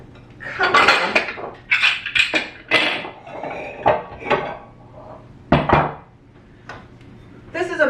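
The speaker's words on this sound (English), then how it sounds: "you need to have a series of mixing bowls, or shall I say a set of mixing bowls" A set of mixing bowls, one of them decades old, is handled on a kitchen counter, giving a rapid series of close clanks, knocks and clinks as they are set down and shifted, with a brief word spoken among them.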